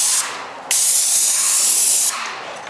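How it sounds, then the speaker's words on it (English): A spray gun hisses as it applies gloss paint along an edge, a steady close airy spray with a brief lull at the start and a quieter tail at the end. "I spray it so that it hits this edge, and then this will be done in the other gloss"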